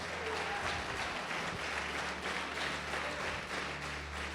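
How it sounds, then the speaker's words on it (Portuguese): Sustained applause from a church congregation during a sermon, a dense wash of clapping that stays steady and moderately loud throughout. "Quem pode aplaudir ainda Jesus?"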